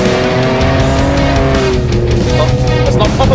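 A 2023 Ford Ranger Raptor revs hard on a beach, its loud engine climbing through rising harmonic sweeps, with some tyre squeal over a steady, close, continuous roar and no talk.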